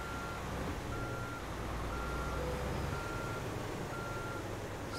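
A truck reverses while parking in Euro Truck Simulator 2, its backup alarm sounding steady, evenly spaced beeps over a low engine drone, with no talking.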